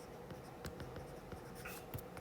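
Marker or chalk writes on a classroom board during a grammar lesson, giving a steady scratchy stroke with small taps over a couple of seconds. No one speaks.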